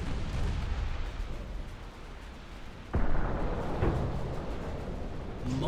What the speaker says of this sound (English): Now that was a nice torpedo attack